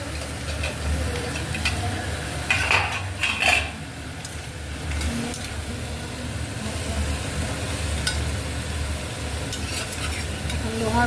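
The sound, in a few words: frying and stirring in an iron wok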